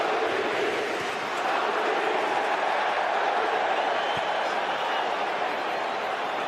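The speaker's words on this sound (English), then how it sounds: "The crowd absolutely lapping this up." Football stadium crowd at a Real Madrid vs AC Milan match at the Rose Bowl, a broad continuous roar of cheering and chatter, steady and loud from start to finish, with no single voice standing out.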